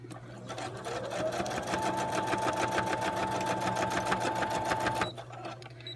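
An inexpensive sewing machine stitches through a card in one fast, even burst of rapid mechanical clatter lasting about four seconds, close and clear, then stops abruptly.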